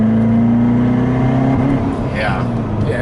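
A Procharged C7 Corvette Stingray Z51 idles loudly and blips its throttle, the supercharged engine's drone rising briefly before a bypass valve pop and whoosh near the end, with voices talking over it.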